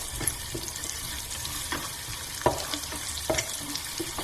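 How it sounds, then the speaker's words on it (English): Cumin seeds, ginger and garlic fry in a pot for an Indian dhal curry while being mixed, a quiet sizzle with soft scrapes and light knocks of the spoon, fairly faint. "We'll start with our cumin seeds, our ginger and garlic, and give that a mix"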